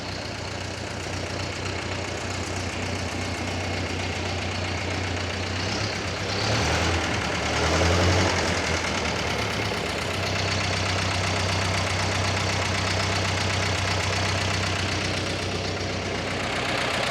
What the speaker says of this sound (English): Miniature steam engine that works.